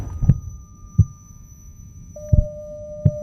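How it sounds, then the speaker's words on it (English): A faint, rhythmic heartbeat sounds as low, soft thumps spaced about a second apart, under a steady hum and a thin tone that enters partway through, echoing and eerie. "A faint, rhythmic heartbeat is still echoing through the abyss"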